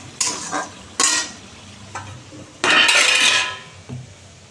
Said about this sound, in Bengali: এই দেখো সেদ্ধ করে রেখেছি এই যে মশলাটা কষাচ্ছি